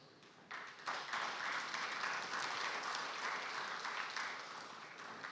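An audience at an agriculture dialogue gives the Nigerian livestock minister sustained applause, a steady wash of many hands clapping that swells early, holds, then slowly thins.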